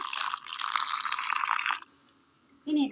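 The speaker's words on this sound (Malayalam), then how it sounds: "അരയ്ക്കുവാൻ ആവശ്യമായ ഒരല്പം വെള്ളം ഒഴിച്ചു കൊടുക്കാം" Water pours in a steady splashing stream into a mixer grinder jar for a couple of seconds, then stops, followed by a short clunk.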